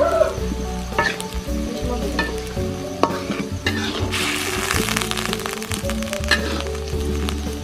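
Food is stirred in a frying pan during a village family's pre-dawn Ramadan meal, with steady sizzling under repeated scraping and clattering of a utensil against the pan, close by.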